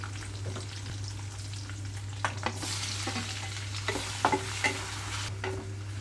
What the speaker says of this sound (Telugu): కట్ చేసి పెట్టుకున్న టమాటాలు వేసి కొద్దిగా మగ్గనిస్తున్నాను